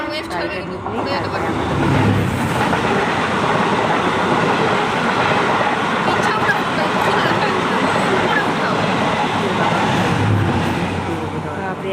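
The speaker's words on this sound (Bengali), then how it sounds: "এখানে ইন্টারসিটি এক্সপ্রেসের সাথে ক্রসিং হবে তাই আমরা বসে আছি" A train rumbles through Bangalbari station during a crossing with an Intercity Express, a loud, continuous rolling roar with rail clatter heard from close by, while people talk over it.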